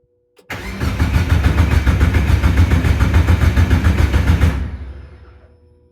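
A Crosley car engine cranks without firing, a loud close rhythmic starter churn of regular pulses for about four seconds before winding down into silence.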